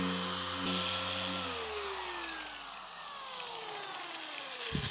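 A power polisher buffs an acrylic truck camper window with compound, its motor whining steadily and then winding down in pitch as it slows, close and alone.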